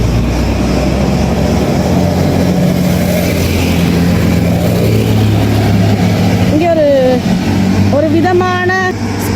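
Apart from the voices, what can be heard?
scooter riding on Aegina island, Greece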